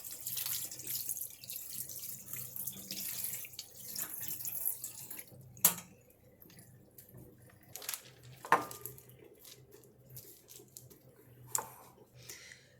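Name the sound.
butter being washed under a cold water tap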